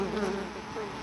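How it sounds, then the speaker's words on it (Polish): A dense, steady insect buzz close by, a swarm of bees droning continuously for about a second. "Zobaczcie, ile pszczół tutaj jest."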